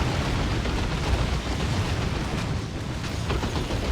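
Rapid bursts of ranged fire from Death Spitters in the strategy video game Dawn of War 2, a dense continuous barrage of pops and booms with no talking.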